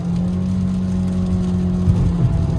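A Nissan Altima with a CVT accelerates on the highway, heard from inside as a steady, loud engine drone and whir with road rumble that swells slightly near the end.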